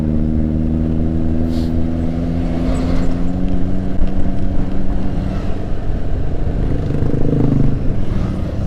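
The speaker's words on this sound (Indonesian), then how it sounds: "Bus ada truk." Heavy road traffic with buses and trucks passes during a motorcycle ride, a loud continuous engine drone with steady low tones and wind rush throughout.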